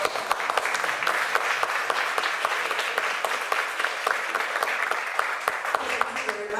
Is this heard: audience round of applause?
yes